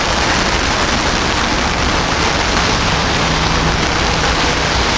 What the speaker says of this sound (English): It started to rain here.